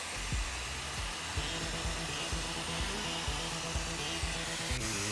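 A vacuum brake bleeder draws brake fluid through the lines of a 2025 Harley-Davidson Street Bob, giving a loud, steady whirring hiss with a rapid rhythmic pulsing underneath, running nearly continuously with no talk.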